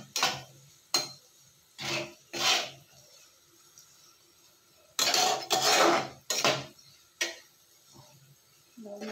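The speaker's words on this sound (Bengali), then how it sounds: "একটু নাড়িয়ে দেবো।" Flattened rice is stirred in a pan with a spoon, a series of close scraping, rasping strokes in irregular bursts separated by brief quiet gaps.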